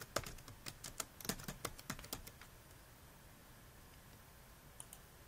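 Rapid keystrokes on a computer keyboard, a quick run of sharp clicks for about two seconds, then near silence with a couple of faint taps at the end.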